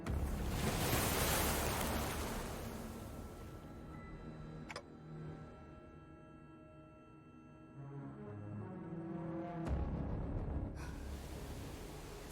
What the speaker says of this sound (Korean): 당신에겐 들리는 거죠? 그날의 파도 소리가.